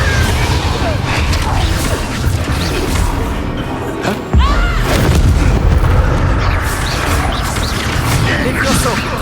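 Blasting-spell explosions from the Hogwarts Legacy game erupt amid a chaotic battle against dragon poachers, booming crashes and impacts piling over each other with a loud burst midway, under a continuous wash of combat noise and voices.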